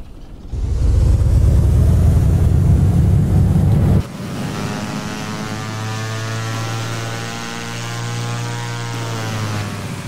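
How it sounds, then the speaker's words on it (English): A Carenado CT206H Stationair engine in X-Plane 10: loud starter whir and rough cranking for several seconds, then a steady lower droning idle with tonal hum, continuing evenly to the end. "So okay, we're going to start the aircraft"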